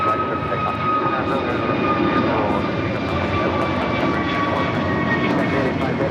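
A heavy jet takes off from runway 25 right at LAX, its engines giving a steady, loud, broadband roar with faint whining tones that holds throughout.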